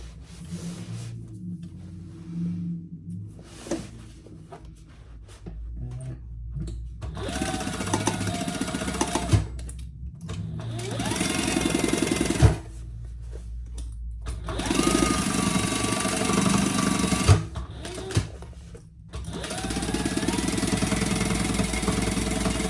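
A sewing machine stitches a seam on a jumbo beach tote bag in long, steady motorized runs broken by brief pauses, close and fairly loud, with no talking.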